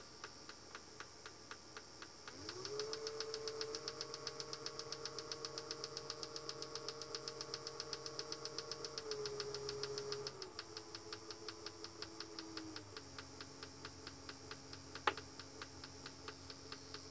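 A 24V brushless DC motor rated 5.5 N·m runs on a 24-48V 480W controller module. Its whine rises as it starts, then steps down in pitch as the speed changes, over a steady rapid ticking, with one sharp click near the end.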